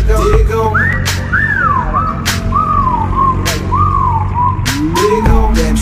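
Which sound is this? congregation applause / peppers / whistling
whistling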